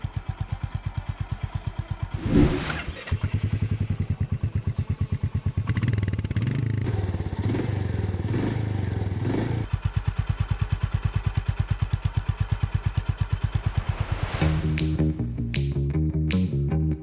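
Honda H'Ness CB350 motorcycle exhaust thumping steadily at close range, a loud rhythmic single-cylinder pulse with brief revs, no talking.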